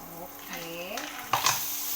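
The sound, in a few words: sautéing in a hot pan before adding mussels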